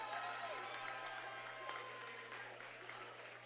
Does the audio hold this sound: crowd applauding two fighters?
yes